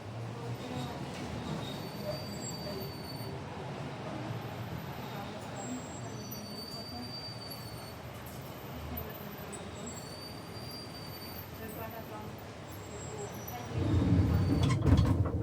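A narrow gauge museum railway train runs along with a steady rumble and clatter of wheels. Faint high squeals come from the wheels, and the rumble grows louder and closer near the end.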